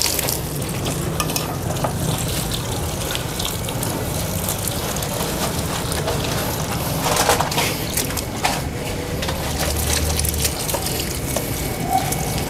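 Steady rushing and splashing of water poured continuously onto soil around a grape plant until saturated, close and fairly loud, with no pauses throughout.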